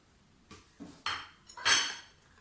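Wheat pancake batter with egg and vegetables is stirred in a bowl, a spoon knocking and scraping against the sides in a few separate strokes, close and moderately loud with no talking.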